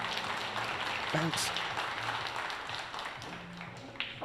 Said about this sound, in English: So we just hear a round of applause in the background there.